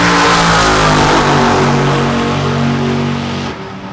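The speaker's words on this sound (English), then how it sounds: "Here comes one of the Gasser class cars, which are surprisingly fast for what they look like." A loud Gasser-class drag race car engine roaring as it accelerates hard at a hot rod drag racing event, a raw, rumbling blast that tapers off slightly at the end.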